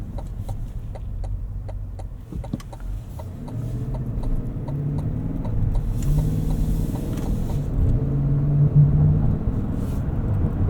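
A 2025 Cadillac Escalade Platinum 4WD with a 6.2-liter V8 drives at night, heard from inside the cabin as a low, steady engine rumble that swells slightly as it pulls, with faint rhythmic ticking clicks over it.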